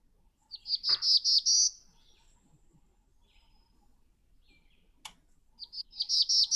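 Black-throated blue warbler singing a buzzy, rising song twice, each a run of rough ascending buzzes, separated by a quiet pause with one sharp call note, fairly close and clear.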